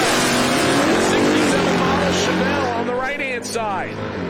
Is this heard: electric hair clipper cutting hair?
no